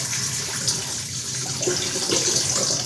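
Water pours steadily into the bowl of a 7.5-quart tilt-head stand mixer for a double batch of dinner rolls, a continuous close hissing splash with no talking.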